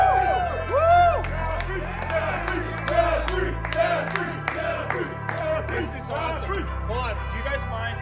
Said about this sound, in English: are you guys not gonna cheer for Geoffrey?